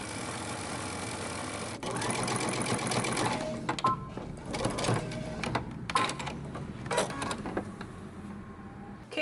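A sewing machine stitches a seam on a dress or romper, with short backstitches at the ends. The motor whirs steadily, then falls into stop-start bursts as it reverses and restarts.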